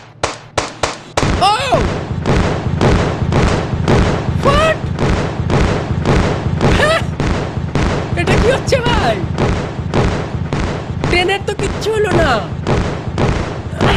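Firecrackers burst after being shot in a video game: a rapid, steady string of loud cracks and booms repeating throughout, with someone talking over them.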